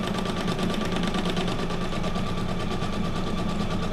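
A sewing machine runs steadily and continuously at close range, with a dense mechanical whir and fast rhythmic stitching texture at an even loudness throughout.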